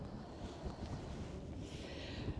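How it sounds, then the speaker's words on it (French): Faint, steady wind at the Baie de Somme coast rumbles and gusts softly into the microphone throughout, with no other clear sounds. "il y a du vent"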